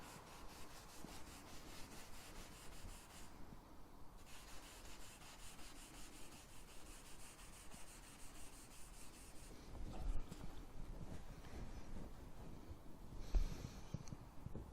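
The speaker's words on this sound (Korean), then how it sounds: "정교하게 샌딩을 하겠습니다." Hand sanding of a car's painted surface using high-grit waterproof sandpaper wrapped on a block, leveling 1500-grit scratches: steady quiet rubbing strokes throughout, growing slightly louder and coarser toward the end, with no talking.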